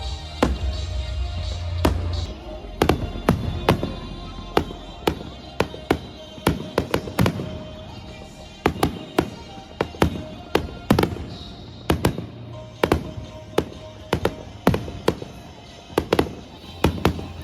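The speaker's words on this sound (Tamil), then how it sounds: "இது கலர்ஃபுல்லாக இதே மாதிரி ஃபயர் ஒர்க்ஸ் பார்த்துட்டே இருந்தோம்" A July 4th 2025 fireworks show in the USA erupts in sharp, loud explosions, some in quick clusters and some spaced apart, with deep booms early on and a continuous crackling rumble underneath.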